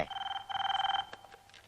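A telephone rings with two short warbling electronic bursts in quick succession, fairly faint, followed by quiet room sound.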